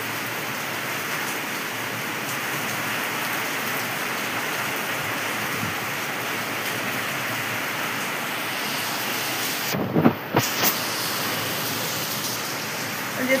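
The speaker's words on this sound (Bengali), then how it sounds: "পরিমাণে বৃষ্টি হচ্ছে, তার সাথে হাওয়া দিচ্ছে" Heavy rain falls with wind in a steady, dense hiss that stays even and close throughout, broken by a short louder gust-like burst near the end.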